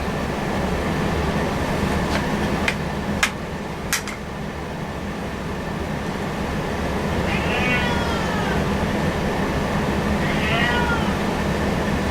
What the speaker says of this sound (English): Shut Up That Cat.